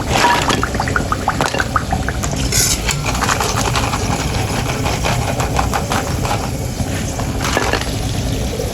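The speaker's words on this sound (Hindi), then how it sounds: "सुन पा रहे हैं ये क्रिस्पी हो गए" Buckwheat and potato pakoras frying in a wok, giving a dense, steady hiss and crackle of hot oil, loud and close, with no talk over it.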